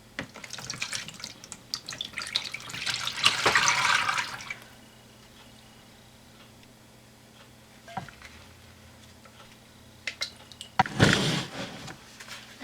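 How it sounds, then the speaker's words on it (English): Soap-making oils pour into a container in a burst of close splashing and trickling, followed by quiet handling clatter and a second brief pour near the end. "I'm going to first pour my oils into my container."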